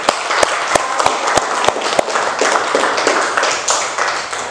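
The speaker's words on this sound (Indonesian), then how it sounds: "Bagus sekali, aku tepuk tangan dulu." Hand clapping during a classroom teaching-practice lesson: a dense, steady patter of many hands, with a few sharp, louder individual claps standing out near the start.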